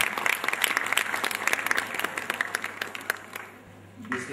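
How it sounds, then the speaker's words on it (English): Applause from the audience at the Mauritius Dancing Star 2015 dance show, greeting the CEO on stage: dense, moderately loud clapping from a crowd that thins toward the end, with a few sharper individual claps standing out. "A big round of applause"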